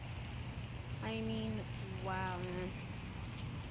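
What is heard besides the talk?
heavy rain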